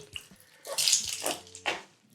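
A wet shaving brush is wrung out by hand after lathering, giving a few short, close, splashy squelches of water over about two seconds, with no talk.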